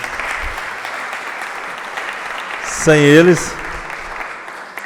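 Audience applause in a lecture hall honoring law students, a steady wash of clapping held at an even level, with a brief spoken word cutting through near the middle.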